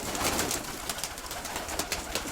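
A pigeon coos softly at close range, a few low murmuring calls repeating over quiet background noise.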